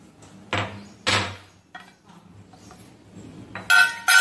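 Roasted green chilli pounded in a stone mortar and pestle for a Maharashtrian aubergine bharit, a few distinct heavy thuds spaced apart with small clinks between them, close and clear.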